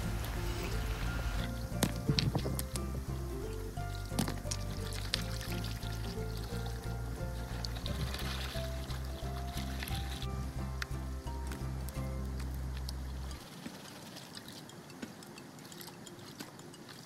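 Gold panning outdoors at Creswick: water sloshes and trickles steadily in a pan for over ten seconds, with occasional small knocks, then falls almost silent.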